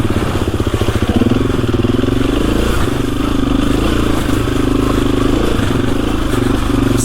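KTM EXC-F 350 dirt bike engine running loud and close while riding through snow, a rapid pulsing four-stroke thrum that rises and holds with throttle changes, no voices.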